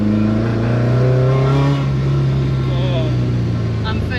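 Ford Escort Cosworth Mk2 (YB Cosworth engine) running on carburettors, accelerating hard with a loud, steady engine drone and rising harmonics throughout, close by inside the car, with voices talking over it.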